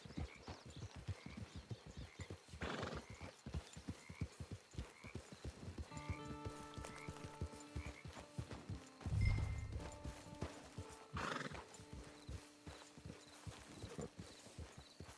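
A horse in the video game Red Dead Redemption 2 Online clip-clops steadily at a walking pace, with a neigh partway through and a low snort, heard at moderate distance outdoors.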